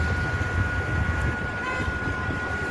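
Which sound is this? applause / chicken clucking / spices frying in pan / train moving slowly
train moving slowly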